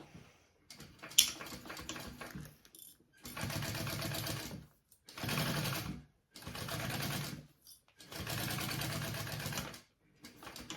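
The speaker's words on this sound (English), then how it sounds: "top stitch along that top seam that you just sewed" A sewing machine top stitches along the top seam of a fabric bag, running in four steady bursts of a few seconds each with short pauses between, close and clear, and no talk.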